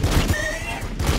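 Gunfire in the Warhammer 40k Battlesector video game, Sisters of Battle units shooting: a short burst of several loud, close shots with a rattling rhythm, mixed with game effects and no talk.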